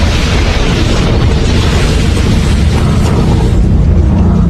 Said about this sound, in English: a series of explosions with the destructive power of an earthquake